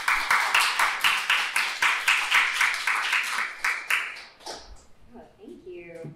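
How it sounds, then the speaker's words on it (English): A small audience claps together at a talk, a brisk rhythmic burst of applause that is fairly close and even, fading out after about four seconds as a voice begins speaking. "let's give them a round of applause"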